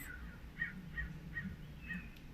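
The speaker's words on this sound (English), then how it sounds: "Lots of crows flying overhead right now." Several crows caw from overhead as they fly past, four or five evenly spaced calls, somewhat distant, over a low steady outdoor hum.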